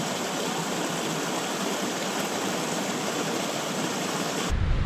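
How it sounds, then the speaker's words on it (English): A river rushes steadily beside a wild campsite in the Mourne Mountains, a close, continuous broadband wash of flowing water with no voices, cutting off abruptly near the end. "obviously I've got the river right beside me"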